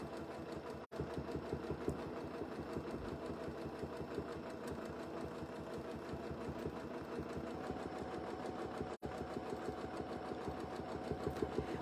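Sewing machine stitching a dense micro-quilting texture on a quilt, a fast rapid needle chatter running almost continuously with two brief stops, close and steady.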